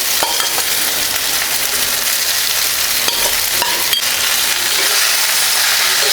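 Cooked rice is stirred into a tamarind mixture in a hot pan, giving a steady loud sizzle with scraping and stirring clatter throughout and no talking.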